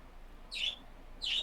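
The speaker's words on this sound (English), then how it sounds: "I like the sound of the birds." Two short, high, bright bird chirps sound a moment apart over a low, steady background hiss, with no talking.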